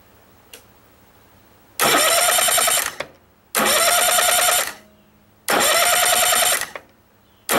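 A Yamaha 9.9 four-stroke high-thrust outboard, its starter just repaired, cranks in three loud, roughly one-second bursts separated by short pauses, the electric starter whirring close up with no talk.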